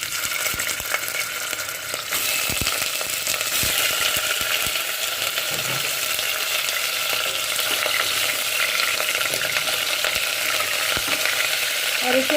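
Meat pieces fry over high heat in smoking-hot mustard oil for rum gosht, a loud continuous spitting sizzle with intermittent scraping and stirring clatter, no one talking.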